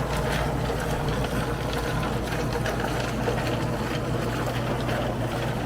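A rock tumbler turns on a Lortone motor rigged with a couple of pulleys, giving off a steady, close mechanical hum and rattle that runs continuously without a break.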